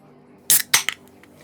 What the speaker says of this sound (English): that's the sound of a Keystone light being cracked up